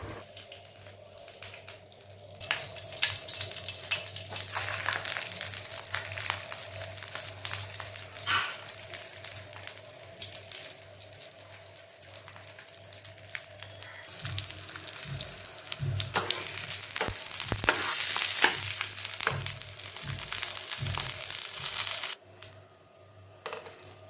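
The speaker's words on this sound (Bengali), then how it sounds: "একইভাবে আমি বাকি পরোটাগুলোকেও তৈরি করে নিচ্ছি আর ভেজে নিচ্ছি" Aloo cheese parathas fry in a pan with a soft continuous sizzle that rises and falls, broken by occasional scrapes and taps of a spatula, growing louder and more crackly before settling.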